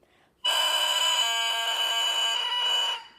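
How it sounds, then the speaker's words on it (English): A soft, too-light oboe reed is crowed alone, breaking into a loud, bright, buzzy squawk after a brief quiet moment, holding for about two and a half seconds with slight wavering before cutting off. "when I crow the reed, just listen to the unfocused sound that I'm going to be able to get on this reed."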